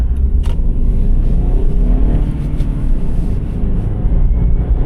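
A Toyota Avalon's engine runs loud and continuous, a dense low rumble with wavering revs heard from inside the car, accompanied by a few faint clicks.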